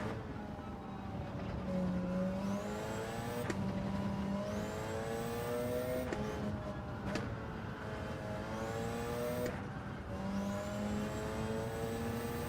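Race cars lap a track during a four-hour endurance race in Spain, engines rising and falling in pitch as they shift through gears, with several distant passes over a steady engine roar.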